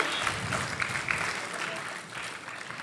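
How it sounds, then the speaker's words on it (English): Audience at an academic conference inauguration applauding for students during a roll call of countries, moderate clapping heard from a distance, with voices murmuring beneath. "Let us all cheer for the students."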